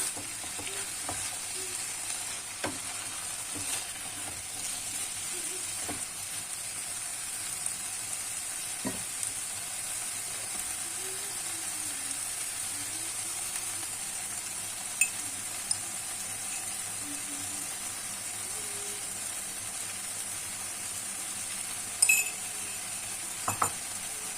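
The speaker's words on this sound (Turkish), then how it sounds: "Karıştıra karıştıra pişirelim. Ki otlarımızın sapları da pişsin." Wild greens fry in a pan with a soft continuous sizzle, while a utensil stirs them with occasional light clinks against the pan, steady and close, no talking.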